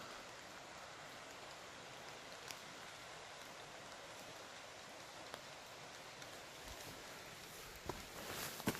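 Steady rain patters down continuously at a campsite by the East Fork of the San Gabriel River, a soft even hiss with a few scattered louder drips near the end.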